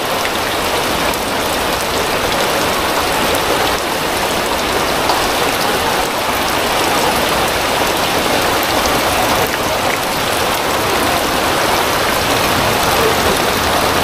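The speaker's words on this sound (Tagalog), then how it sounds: "Ayan na naman ang ulan." Heavy rain pours down steadily during flooding, a dense unbroken hiss of drops hitting surfaces, loud and close throughout with no voices.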